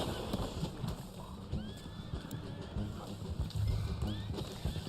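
A horse in the video game Red Dead Online gives a clear whinny over steady clip-clop hoofbeats and outdoor ambience, with a second neigh later, moderately close.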